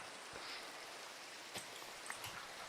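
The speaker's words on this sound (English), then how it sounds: "The rain's hydrating the crop" Soft, steady rain falls on crops in a video game, a faint continuous patter with a few slightly louder drops standing out, no talk.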